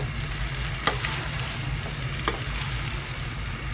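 Hokkien mee noodles being stirred with broth in a hot pan, a continuous close sizzle and fry with a few soft scraping strokes of the spatula, no voices.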